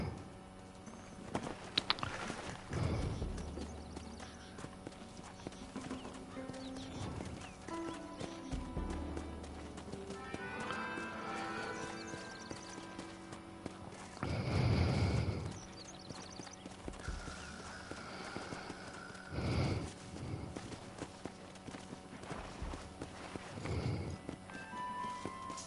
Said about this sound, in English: Why did I get on the horse? Yes, it will always be my most hated sound.